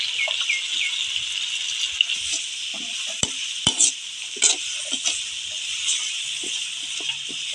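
Tomato and mushroom masala sizzling in a village kitchen pan, a steady frying hiss with scattered scraping stirs and clinks of the spoon against the pan.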